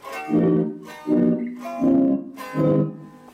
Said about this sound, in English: 13's an interesting one, it's a reverse reverb.